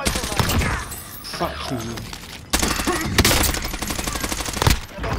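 Rapid automatic gunfire from a Call of Duty: Modern Warfare match, loud dense bursts and crackling volleys in the foreground, with a man cursing briefly over the shooting.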